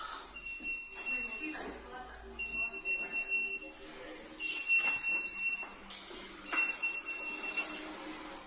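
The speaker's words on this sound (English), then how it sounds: "The restaurant gave NK Haunting some footage of an alarm going off in one of the bathroom stalls." Repeating electronic alarm beeps in a restaurant bathroom stall, sounding in several bursts with gaps, mixed with voices talking over it.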